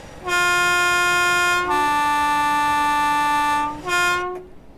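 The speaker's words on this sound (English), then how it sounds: "To blow the horn. Let's get a bit of two-tone going, shall we?" Two-tone horn of a BR Class 313 electric multiple unit in Train Simulator 2017, a loud sustained blast of one pitch, then a lower tone, then a short return to the first tone, with no talk.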